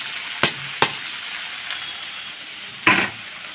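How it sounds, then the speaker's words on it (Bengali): Mixed vegetables tipped into a pan of sautéed spices for a vegetarian Bengali curry, giving a steady sizzling hiss with a few sharp louder bursts as pieces hit the hot oil and are stirred, close by with no talking. "এখন আমি সব সবজিগুলো ঢেলে দেবো"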